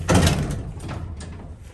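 A vintage Dover Oildraulic elevator door from 1966 slides shut with a loud initial thud and rumble, then a fading rolling rattle, heard close by.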